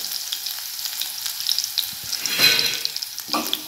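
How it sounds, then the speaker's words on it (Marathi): Crushed garlic sizzles in hot oil in a pan, a steady soft crackle with brief louder bursts of spitting and stirring midway, close and alone without voices. "त्यासाठी सर्वात आधी ठेचलेलं लसूण तेलामध्ये टाकून घ्यायचे"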